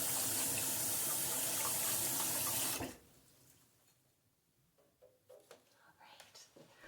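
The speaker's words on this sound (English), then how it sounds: "rub them all together, rub them all together, rinse them clean, rinse them clean" Tap water runs in a strong, loud hiss over hands being rinsed for about three seconds, then stops abruptly, leaving quiet room tone and a few soft drips and shuffles.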